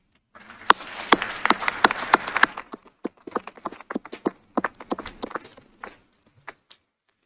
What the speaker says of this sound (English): give them a round of applause as a thank you for all of their support